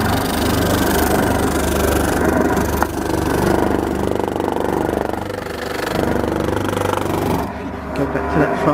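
Bamboo being power-sanded while making an audio diffuser: a steady, droning motor whine runs throughout with a voice talking over it, and the sound drops off briefly near the end.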